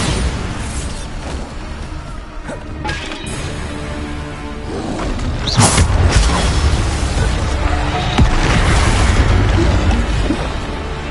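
A Bombarda spell explodes during combat in the video game Hogwarts Legacy, with a loud booming burst about halfway through over a churning bed of fight noise and score.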